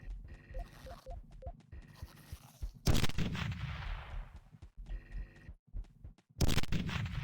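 Heavy rifle fire in the video game Teleglitch: two loud, sharp blasts, each trailing into a rumbling decay, with quieter in-game clicks and beeps between them.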